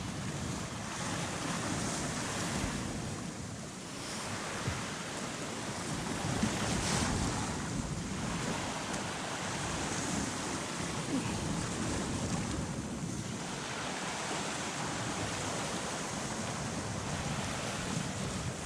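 Winter sea waves surge and wash over the rocks of a shoreline in Anglesey, North Wales, a continuous rushing roar with periodic swells, mixed with gusty wind buffeting the microphone.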